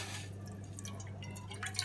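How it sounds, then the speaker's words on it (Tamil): A little water trickles and drips into a pot while masala tea is being made, a faint, quiet pour over a steady low electrical hum with no speech. "பாத்திரம் வச்சுட்டு கொஞ்சமாக தண்ணி"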